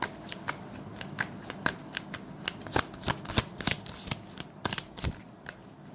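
Tarot cards being shuffled by hand in a run of crisp, rapid riffling flicks and soft slaps, close and fairly quiet, with no talking.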